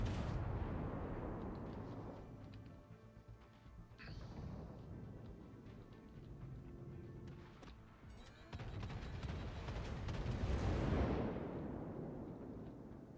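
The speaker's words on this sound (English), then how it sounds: "So they're exchanging some shots between him and the Kaiser now." Heavy naval guns boom back and forth between an Orion and a Kaiser battleship in World of Warships, with several deep blasts and crashing impacts spread across the stretch over a rumbling background, no voices.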